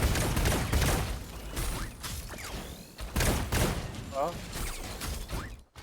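Jojo's sneak attack 4 in Super Mecha Champions fires area-damage shots at an enemy mecha: rapid bursts of mechanical gunfire, thuds and whooshing effects come in clustered volleys, then end abruptly.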